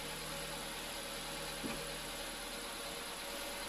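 A car engine idles steadily and quietly after its throttle body, MAF sensor and idle air control valve were cleaned, holding a smooth low hum throughout with one faint brief knock midway.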